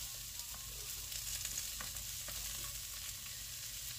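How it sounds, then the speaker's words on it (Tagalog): Onion, garlic and ginger sauté in a pan with a steady, low frying sizzle and faint stirring scrapes, quiet and continuous with no talking. "mix lang natin hanggang maluto yung ating sibuyas, garlic, at luya"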